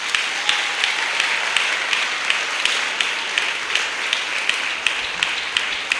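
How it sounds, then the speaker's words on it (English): Sustained audience applause at a school prize-giving and awards ceremony, steady dense clapping from a large crowd throughout with a few sharper individual claps standing out. "Keep the applause going"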